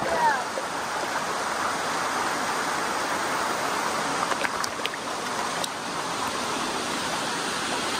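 Chilly morning creek water flows steadily with a continuous broadband rush, close and moderately loud, and a few faint faraway knocks and clicks break through the wash.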